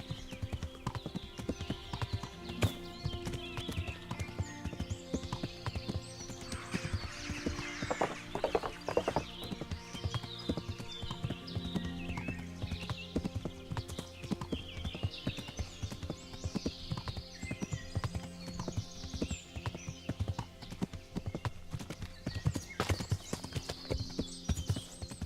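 A horse's hooves clip-clop steadily at a walking pace in the medieval video game Kingdom Come: Deliverance, close and continuous under a layer of game music and ambience, with an occasional snort.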